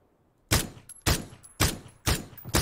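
Five sharp, loud gunshots fired at a steady pace about half a second apart in the battle royale shooter PUBG on the Karakin map, each crack ringing out briefly before the next.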